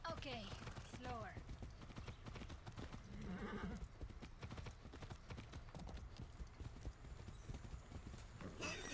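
Horse hooves clip-clop in steady rhythm as a horse is ridden in Far Cry 6, with a brief whinny near the start and someone talking over it.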